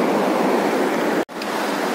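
A river rushing beside a trekking trail to Shey Phoksundo in Dolpa, a steady loud broadband roar of flowing water, close by, with a brief momentary dropout partway through.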